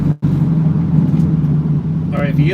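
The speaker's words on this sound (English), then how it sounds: "if you hear the car sound weird, that's because I put it back in automatic." A car engine hums at a steady low drone while driving with the transmission in automatic, a voice talking over it, close and continuous.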